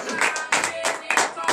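A church congregation claps in acclamation during morning prayer in Benin, with several quick rhythmic bursts of many hands close by and a faint murmur of voices underneath.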